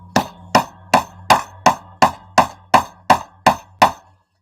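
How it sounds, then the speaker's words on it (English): Meat tenderizer pounding on a sewing project bag, eleven evenly spaced loud thuds in a steady rhythm, each a sharp knock with a short decaying ring over a low hum, no voices. "So sorry for the banging."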